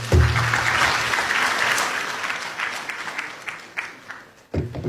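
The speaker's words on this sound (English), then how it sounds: "Another round of applause, please" An audience claps together in a dense burst of applause that thins into scattered claps before fading.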